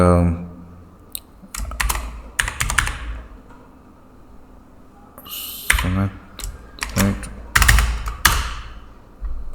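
Password being typed on a computer keyboard, a few short bursts of key clicks separated by pauses, close and fairly loud, with some quiet background noise.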